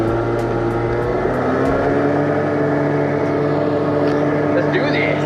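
A motorboat drones on the water, a steady engine hum with a low throb that carries through the whole stretch, heard outdoors with a person speaking over it.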